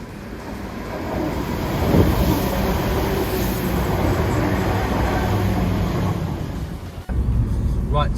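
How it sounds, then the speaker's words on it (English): Train passing through fog, a sustained broad rumble and rush heard fairly close with wind buffeting the microphone, steady throughout before a brief dip and return near the end. "So there is one of our trains."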